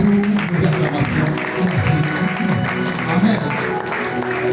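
Church congregation at a Thursday worship service cheering and clapping as members return to their seats, a steady crowd roar with voices mixed in throughout.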